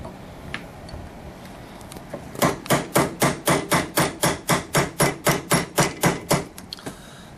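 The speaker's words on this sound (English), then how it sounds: "I actually picked up a different hammer here because this thing is... This is actually a full-size hammer." A full-size hammer strikes a punch to drive out 1911 pistol sights, a rapid evenly spaced series of about fifteen sharp metallic taps, close and loud, after a few scattered lighter knocks.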